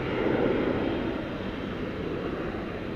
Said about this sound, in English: A United 737-800 coming in from the Smile High city of Denver